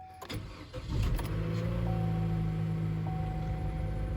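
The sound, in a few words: car engine starting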